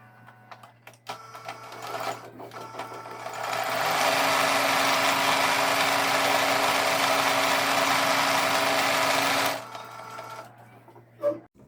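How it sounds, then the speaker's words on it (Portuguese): A sewing machine stitches the inner part of a clutch bag, a continuous fast whirring run of about six seconds that starts and stops cleanly, close by with quiet surroundings. "vamos pra máquina costurar"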